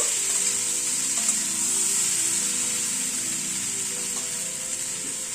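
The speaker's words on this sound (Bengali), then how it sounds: "বিনসটাকে দিয়ে আবার একটুখানি ফ্রাই করে নেব" Beans frying in a pan on a gas stove, a steady, close hiss and sizzle that continues evenly with faint stirring scrapes.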